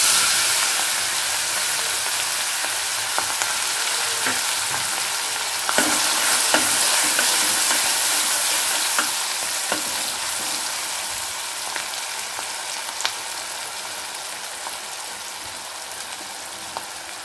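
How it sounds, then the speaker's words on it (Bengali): Small pieces of a large capsicum hiss and crackle in hot oil and butter, a loud, steady, close sizzle that carries on without pause, with occasional sharper pops. "তেল এবং বাটার গরম হয়ে গেছে, এবারে দিয়ে দিচ্ছি একটা বড় ক্যাপসিকাম, আমি ছোট ছোট টুকরো করে রেখেছি,"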